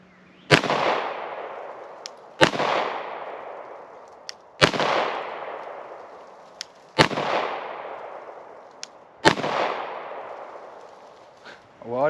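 Five loud, sharp pistol shots from a Beretta 92 fire at an even pace about two seconds apart, each cracking close and trailing into a reverberant decay, with faint clinks between them.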